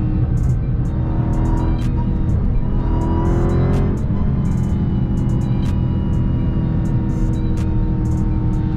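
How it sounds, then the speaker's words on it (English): Dodge Durango SRT Hellcat heard from inside while driving, a loud steady engine drone with a supercharger whine that rises and falls across the pull, continuous and close with no talking. "You can hear the supercharger all the way down to RPM"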